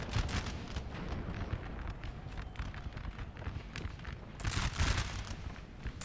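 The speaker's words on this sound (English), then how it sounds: "You just see the artillery going off in the back lines." Distant artillery volleys in a Napoleonic battle from the video game Napoleon Total War, the Battle of Lundy's Lane, booming in scattered bursts over a continuous low rumble of wind and battle ambience.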